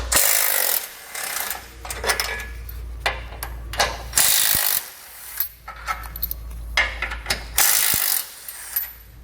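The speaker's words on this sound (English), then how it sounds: "So we'll grab a 15mm socket and pull all 3 of those out." A ratchet with a 15mm socket backing out bolts while a base plate kit is fitted to a 2020 Jeep Cherokee, with close, loud bursts of rapid clicking separated by short pauses.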